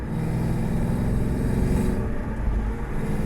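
An Audi B6 S4 with a new clutch and flywheel drives along at an even pace, its engine a steady low hum with road rumble heard from inside the car.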